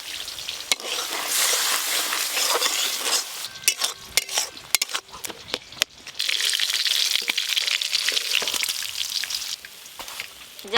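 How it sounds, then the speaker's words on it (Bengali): Spices stirred and fried in a pan, a steady crackling sizzle with scraping stirs and occasional sharp clicks of the spoon, close and fairly loud with no talk. "এদিকে বেশ খানিকক্ষণ ধরে মশলাগুলো একটু নেড়ে নেব যতক্ষণ না মশলার কাঁচা গন্ধ চলে যায়"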